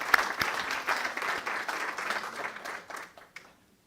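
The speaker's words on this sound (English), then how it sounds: "Let's give her another round of applause." Indoor audience applause that is moderately loud and brief, with dense clapping fading out over a few seconds.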